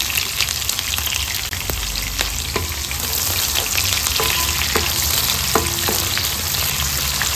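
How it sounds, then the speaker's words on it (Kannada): Four medium chopped onions fry with crackling mustard seeds in a hot pan for a dry fish and potato curry, a steady close sizzle with occasional clicks and stirring taps throughout. "ಈರುಳ್ಳಿ ಚೆಂದ ಫ್ರೈ ಆಗಬೇಕು."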